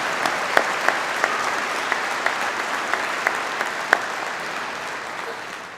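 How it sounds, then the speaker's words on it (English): Applause from an audience at a spring university convocation morning ceremony, following a big band performance, steady dense clapping that tapers slightly toward the end, with a few sharper individual claps standing out. "One more big round of applause from the MacEwan University Big Band."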